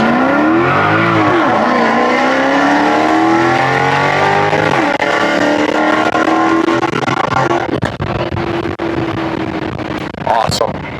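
A Maserati GranTurismo S fitted with custom megaphone test pipes and a tune revs hard, its loud exhaust climbing and falling in long sweeps, with excited voices talking over it and a sharp burst near the end.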